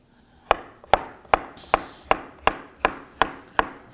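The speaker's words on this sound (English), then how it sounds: "I'm going to cut it about between 1/4 and 1/2 inch into half moons" A kitchen knife chopping through a vegetable on a cutting board into half moons, nine or ten crisp, evenly spaced thuds about two to three per second, close and clear with no talk.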